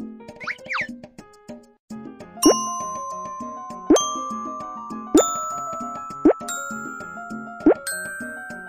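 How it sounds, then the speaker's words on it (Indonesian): Homemade instrument of same-coloured bottles hung on a string, tapped one at a time: a quick run of small plinks, then five clear ringing glassy tones spaced about a second apart, each decaying before the next. "Ketuk di sini dan dengarkan suara botol-botol ini."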